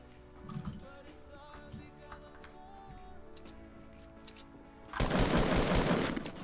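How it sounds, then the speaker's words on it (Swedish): Burst of automatic gunfire in the Fortnite video game, loud and dense after a quieter stretch of game ambience, firing continuously for the last second and a half. "Hur var alla de skotten miss?"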